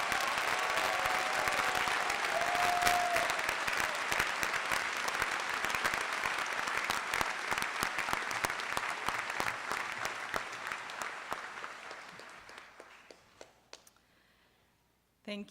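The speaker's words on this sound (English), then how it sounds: "Let's have a big round of applause for all of our graduates." An audience applauds graduates at a 2019 doctoral hooding ceremony at the University of Mississippi, loud sustained clapping from a large crowd that gradually thins and fades out near the end.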